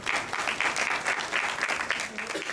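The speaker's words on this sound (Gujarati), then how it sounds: "તાળીઓથી વધાવો." An audience at a live devotional assembly claps together, a dense, continuous burst of applause that stays loud and even for its short length.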